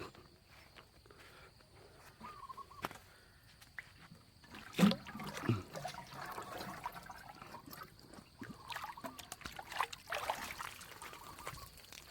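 Vegetables in a farm garden are watered in the morning, with faint trickling and intermittent splashing up close. Crickets chirp softly in the background.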